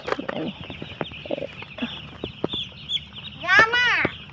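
Chicks of a native backyard breed cheep and cluck while being lifted one by one into a bucket for vaccination, close and fairly loud, with a sharp chick peep near the end and someone talking nearby.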